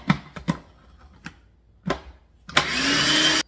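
A food processor pulses flour, sugar and salt for a pumpkin pie crust: several short, sharp whirring bursts spaced apart, then one longer, louder run lasting about a second before it stops.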